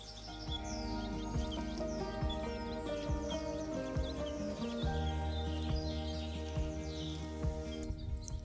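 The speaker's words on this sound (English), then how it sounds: "Oh, I hear a bird." Bird calling outdoors among cactus flowers and tiny yellow wildflowers, short chirping calls repeating throughout at moderate distance over a steady, busy background of other outdoor noise.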